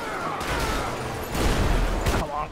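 Tank cannon fire in Grand Theft Auto V, heavy booming blasts with rumbling explosions in a busy game scene, two louder hits standing out in a short stretch.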